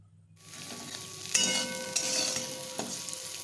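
Vegetables and flattened rice being stirred and fried in a pan for Bengali-style chirer polao, a steady close sizzle with scraping spatula strokes and no talking.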